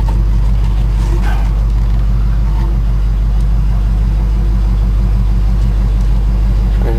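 A 1972 Ford F-100 truck engine runs steadily with a loud, deep, continuous rumble heard from inside the cab, with faint interior rattles over the drone.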